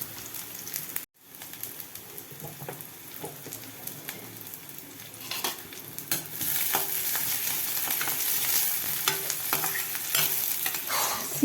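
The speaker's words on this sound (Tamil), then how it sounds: "அதனால் வெங்காயத்தை போட்டுட்டு அது மேலே சீரகம் போடுறேன்." Onions and cumin seeds frying in very hot oil, a steady crackling sizzle with scraping stirring strokes that grows louder toward the end, with no voices.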